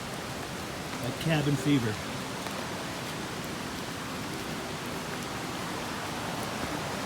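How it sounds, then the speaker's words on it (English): Steady rain falls in a wilderness backcountry camp during a late-September backpacking trip, a constant broadband hiss near a creek; someone speaks briefly near the start, then the even patter continues alone. "And it's still raining, although it's let up a little bit."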